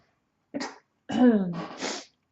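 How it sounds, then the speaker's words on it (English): Two quick coughs, a short one followed by a longer, throatier burst, close to the mic with silence around them. "I have some little coughs here and there."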